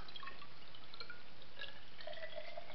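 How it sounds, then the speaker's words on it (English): Distilled water is poured into a graduated cylinder in a lab, a faint trickling and dripping of liquid into glass over a few seconds. "This is exciting video, watching somebody pour liquid."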